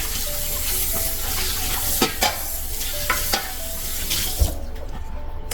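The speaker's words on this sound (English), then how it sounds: "Let me rinse this." Wild grapes being rinsed under a running tap: a steady, close rush of water with a few brief knocks and clatters against the sink.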